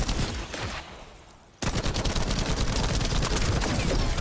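Rapid automatic gunfire in The First Descendant video game, a dense burst that fades into a short lull, then another sustained, loud stretch of shooting continuing to the end.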